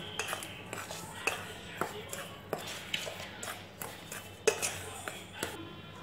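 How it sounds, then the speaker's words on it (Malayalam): A spoon stirs rava dosa batter ingredients (semolina, green chilli, ginger, pepper powder, asafoetida and salt) in a bowl, giving repeated soft scrapes and light clinks against the vessel at an irregular rhythm, close by. "ഇനി ഒരു സ്പൂൺ വെച്ച് ഇതെല്ലാം കൂടെ മിക്സ് ചെയ്യാം."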